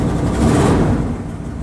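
The engine of a 1979 Dodge 100 truck idles close by after a cold start with a repaired choke, a loud, steady low rumble that eases slightly toward the end.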